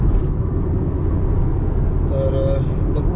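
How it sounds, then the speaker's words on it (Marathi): Steady low road rumble and engine drone of a car driven overnight on a long highway road trip, continuous and close, with a brief faint tone partway through and no talk heard. "वैभव गाडी चालवतोय।"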